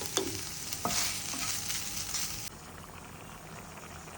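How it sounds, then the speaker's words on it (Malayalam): Prawns frying in a pan with curry leaves, a bright sizzle with a few stirring clinks at the start that drops to a quieter, softer frying hiss halfway through. "ചെമ്മീൻ ഫ്രൈ ആയിട്ടുണ്ട്. കുറച്ച് കറിവേപ്പില ഇട്ടിട്ട് തീ ഓഫ് ചെയ്ത് കൊടുക്കാം."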